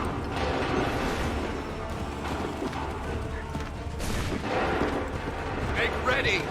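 Musket volleys ring out in a Assassin's Creed III battle, a continuous dense clatter of gunfire with mechanical rattles and bursts, loud throughout, with shouted commands mixed in.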